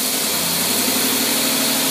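A car engine with a Rochester dual jet carburetor idles smoothly, a steady low hum with even harmonics running loud and unbroken, close by, with no talk over it.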